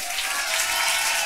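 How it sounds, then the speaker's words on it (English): Applause from an audience welcoming coaches called onto the stage at a cultural tourism project event, a dense steady wash of clapping filling the short stretch without a break. "you give them a huge applause"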